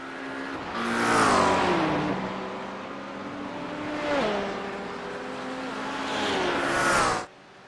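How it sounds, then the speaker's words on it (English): A BMW M5 CS passes in a race setting, its engine swelling loud, easing off, then rising again in a few distinct passes before cutting off abruptly, with rising and falling engine tones. "Hey, BMW M5 CS."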